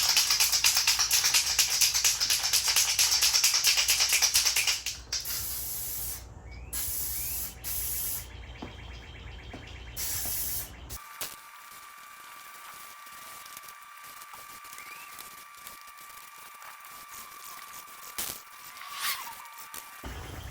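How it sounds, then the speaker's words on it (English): A spray gun lays a coat of two-part epoxy primer on a Porsche 944 hatch, a strong steady hiss for about five seconds, then quieter intermittent bursts and faint handling noises. "That's one coat of the 2-part epoxy primer."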